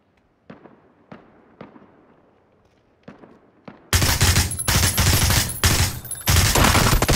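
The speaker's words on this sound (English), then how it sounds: "I don't know why I ran over there and just started shooting in the room." Video-game shooter gunfire: several spaced single shots echo faintly at first, then a sudden loud, sustained burst of rapid firing dominates to the end.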